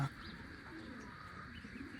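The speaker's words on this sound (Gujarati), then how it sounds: "કબૂતરા બોલાવે" Pigeons coo faintly at a quiet farm, soft low calls sounding softly against a hushed, slightly breezy background.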